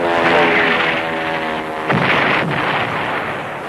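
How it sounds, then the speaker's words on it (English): Phosphorus smoke shells fired onto beaches ahead of a landing, heard as a loud, heavy artillery boom and rumble over a droning engine, with a sharp second blast midway, in old wartime newsreel audio. "Phosphorus shells are shot onto the beaches."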